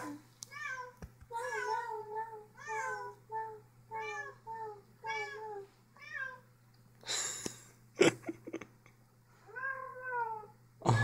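A cat meows repeatedly in a close, rhythmic series of drawn-out cries, separated by brief pauses, with a couple of sharp knocks and rustles partway through.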